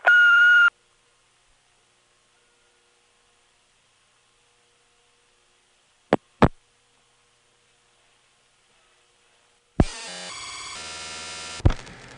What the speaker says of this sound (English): At the sound of the little beep, please leave your name, phone number, and message.